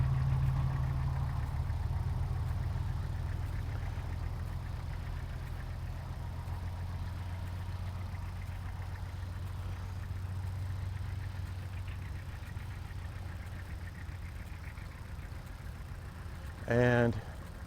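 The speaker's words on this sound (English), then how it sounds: "Here's a little Ford tractor here." A small Ford tractor engine runs at a gas and steam engine show, giving a steady low idling drone close by, with a voice speaking over it and a brief sharp burst near the end.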